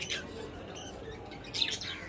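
Small birds chirp and tweet faintly in bright short bursts near a nest over low background noise, with a couple of calls standing out near the end.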